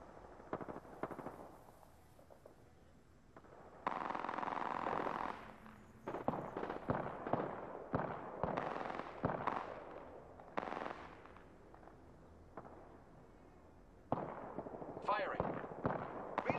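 Automatic gunfire in the video game Apex Legends comes in several loud, sustained bursts separated by short gaps. Brief sharp shots fall between the bursts, and a player's voice talks intermittently.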